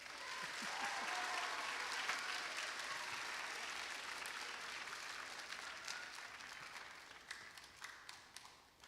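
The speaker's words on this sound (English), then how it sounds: "Now you may clap." An audience at a middle and high school choir concert applauds, sustained dense clapping that thins out toward the end into scattered individual claps.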